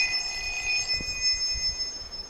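A phone rings faintly in the Ready or Not game, a thin electronic ring tone held over low background noise.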